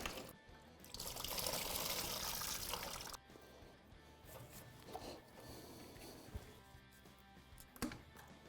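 Engine coolant draining from the cylinders of a Yamaha Banshee during a top-end rebuild, a faint continuous trickle and pour of liquid with occasional light knocks, quiet and without speech.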